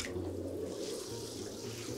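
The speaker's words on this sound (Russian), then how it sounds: "Я сейчас первую бомбочку бросаю в воду, гигантскую денежную, которая стоила 15 тысяч." Bath water running and splashing as a giant money bath bomb goes into the tub, a steady close watery rush with no talk.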